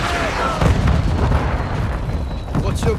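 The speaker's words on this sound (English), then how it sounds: "Grenade out!" Heavy booming blast from a grenade in Call of Duty Modern Warfare 2 multiplayer, dense and loud with rumbling low end, mixed into ongoing battle noise.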